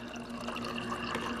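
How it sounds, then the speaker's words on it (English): Filtered water dispensing from a refrigerator's water dispenser, a soft steady trickling stream with a faint hum behind it, quiet and continuous. "I'm just gonna get some water from the fridge"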